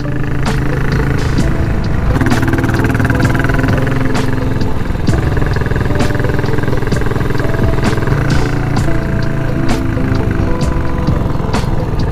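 A classic cafe-style motorcycle climbs the winding Malico mountain road between Pangasinan and Nueva Vizcaya, its engine droning loud and close with shifting revs and repeated sharp clicks and ticks throughout.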